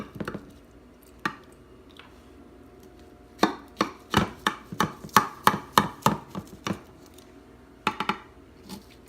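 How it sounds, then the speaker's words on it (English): A knife cutting a layered salad into squares, crisp chopping strokes landing on the board in a few scattered cuts and then a quick run of rhythmic cuts, close and clear. "just take a knife, and you want to just cut it in squares"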